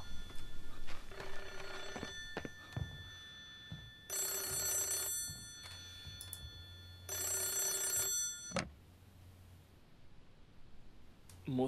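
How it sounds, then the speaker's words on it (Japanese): A telephone rings in a horror video game, three long bursts of an old-style bell with pauses between them, loud and close, with soft clicks and a low ambient hum between rings. "あ、電話だ。"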